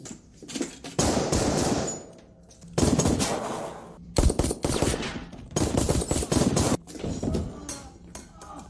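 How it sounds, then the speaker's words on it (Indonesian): Bursts of rapid gunfire in a dramatic scene, several loud volleys separated by short pauses, with a few isolated shots between them. "Polo sudah terlihat terkapar di lantai karena ia terkena tembakan dari Vasco."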